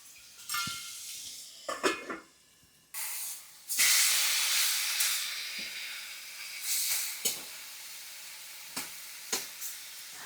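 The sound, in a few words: chicken breast tikka frying in a covered pan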